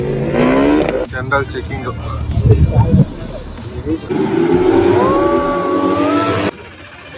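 Race motorcycles being readied in a pit area before a Chennai bike race, engines revving and blipping in bursts nearby, loud and uneven, with people talking over and between the revs.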